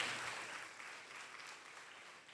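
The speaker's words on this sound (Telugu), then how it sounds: "జపమాలకు చప్పట్లు కొట్టండి" Church audience clapping at a rosary jubilee celebration in Yellandu, Khammam, a dense steady patter of applause from a crowd, fairly even in level and tapering slightly toward the end.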